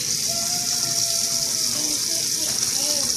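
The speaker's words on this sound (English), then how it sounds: "rinse them under the water" Tap water runs in a steady, even hiss as seafood is rinsed under it, with a faint voice now and then over the flow.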